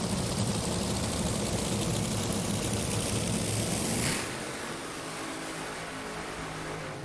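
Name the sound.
Top Fuel dragster engines fired up on the drag strip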